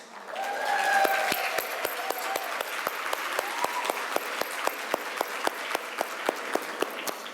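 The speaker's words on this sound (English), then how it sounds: "I want you to give her a lot of applause for this" Applause at a women entrepreneurs' forum, a rhythmic run of sharp, evenly spaced claps, nearby and moderately loud, with a few voices calling out in the first couple of seconds.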